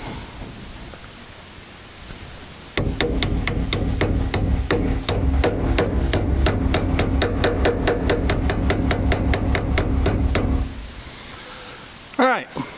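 A cap being hammered onto a trailer wheel hub, a rapid run of loud, evenly spaced metallic blows struck close by for about eight seconds, then stopping, followed by a short spoken remark.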